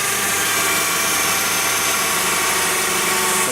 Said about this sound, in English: Engine's revving. I have my parking brake on. Engine revs, wheels doesn't turn.